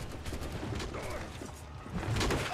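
Gunfire crackles in a brief burst during a multiplayer session of Assassin's Creed 4 Black Flag, loud against the game's background noise and swelling near the end, while players talk over it.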